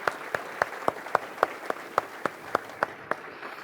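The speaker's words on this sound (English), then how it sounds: "Let's just give Ian a round of applause for bringing this together" Scattered hand claps from a small audience at a talk, about a dozen distinct slow claps spaced evenly, moderately close and fairly quiet, with no voices over them.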